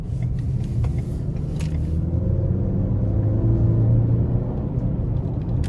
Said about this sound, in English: I'm gonna give it a little pull coming out of this corner here.